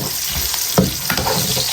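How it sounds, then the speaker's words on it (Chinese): Scallion, ginger and garlic dropped into plenty of hot oil in a wok, a loud steady sizzle and crackle with a brief burst of spattering, close and continuous. "油热下入葱姜蒜爆香"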